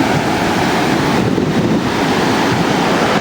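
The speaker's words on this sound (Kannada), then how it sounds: "ಮಲ್ಪೆ ಬೀಚಿನ ನೀರು ನನ್ನ ಕಾಲಿಗೆ ಹತ್ತು" Sea waves wash up on Malpe beach near Udupi, a loud close roar of surf and swash with heavy wind rumble on the microphone, continuous and without voices.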